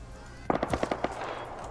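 An MP5 fires in the survival game Rust, a rapid burst of about seven sharp shots in quick rhythm, fairly close over a low background hum.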